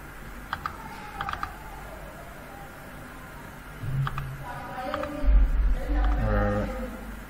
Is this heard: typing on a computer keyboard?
yes